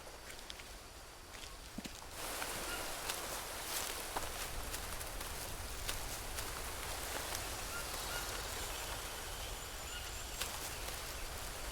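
Heavy rain falls in the jungle survival game Green Hell, a dense steady wash of droplets that swells in after a couple of seconds and stays constant, with occasional patters and faint rustling, no voices.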